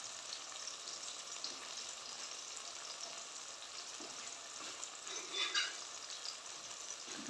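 Tomatoes sizzle and fry steadily in a pan for a dhaba-style spiced cauliflower curry, a continuous close hiss with a brief louder stir near the end, no talking.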